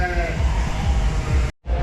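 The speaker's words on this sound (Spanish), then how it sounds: "Están todas las ovejas en el granero para ser esquiladas." Sheep held in a barn before shearing bleat loudly and close by, with several overlapping calls over a continuous low rumble of farm noise, then a brief dropout near the end.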